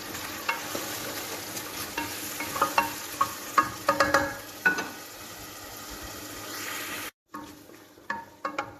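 Blended tomato stirred into a pot of frying vegetable soup, a steady sizzle under repeated scraping spoon strokes, close and fairly loud, then a brief silence before more scraping.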